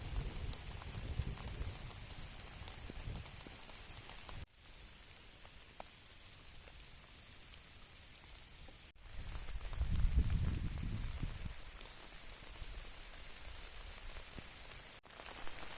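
Steady summer rain patters on hydrangea flowers, leaves and surfaces close by, with a few heavier bursts of drops; no voices.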